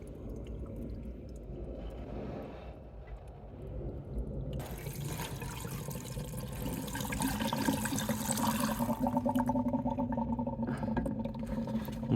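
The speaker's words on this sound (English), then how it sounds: "let's pop a bit of water in it" Water poured into the cooling system of an Alfa Romeo GT V6, a soft trickle at first that grows into a steady, louder gurgling flow filling the radiator up close.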